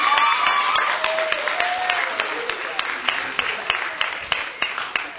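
An audience applauds a panel of speakers at a school event. Loud, dense clapping starts at full strength and slowly thins out into scattered individual claps.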